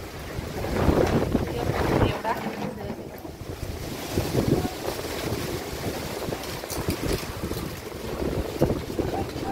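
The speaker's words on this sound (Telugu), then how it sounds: "గాలిదుమ్మ అయితే వచ్చేస్తుంది" Strong wind gusts roar and buffet the microphone steadily, with rushing noise rising and falling throughout and no talking.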